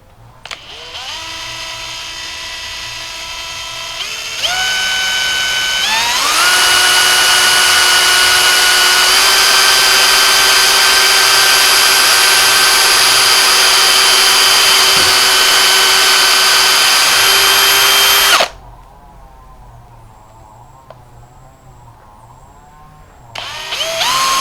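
A power drill bores through wood for a cabinet door, its motor whining up in steps to a loud, steady high-pitched spin, then cutting off abruptly before starting again briefly.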